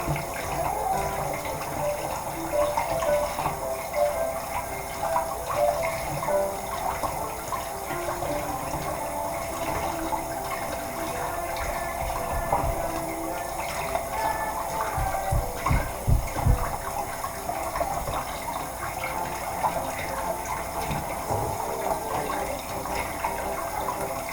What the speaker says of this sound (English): I wash my chicken on cold water